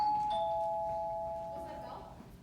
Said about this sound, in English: Was that a bell? It sounded like a bell.